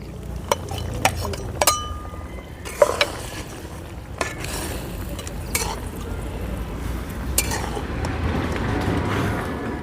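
Fried puti fish are slipped into a boiling green tomato curry, with scattered clinks and scrapes of utensils against the pan over a low bubbling simmer, close by and with no speech.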